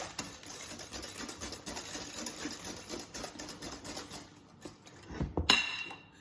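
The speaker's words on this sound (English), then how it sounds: "Whisk around." Whisk beating carrot cake batter with eggs in a bowl, a steady close rapid scraping patter for several seconds, ending in a louder clatter, no voices.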